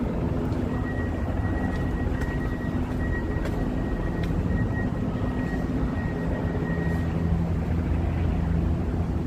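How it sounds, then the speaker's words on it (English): A helicopter over Inwood, Manhattan, heard as a steady low rotor drone with a faint whine that stays constant throughout, mixed with busy city noise. "there's one of the helicopters up there"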